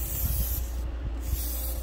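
3-in-1 silicone lubricant sprays from a can onto the sliding parts of an RV hydraulic leveling jack, a close, steady hiss over a low rumble, broken by a brief pause midway, with no talking.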